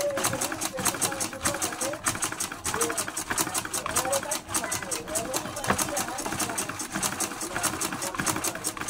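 Butterfly-brand sewing machine stitching after its thread tension was adjusted, a rapid steady clatter of needle strokes running continuously and close, with a voice talking over it.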